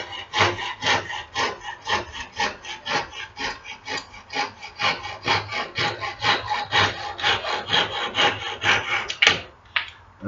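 Handsaw cutting through wood for a chess board, a steady rhythmic back-and-forth rasp of about two strokes per second, close and loud, continuing alone until the cut finishes with a final clatter.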